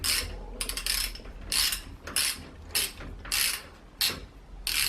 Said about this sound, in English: you can use the wrench to loosen the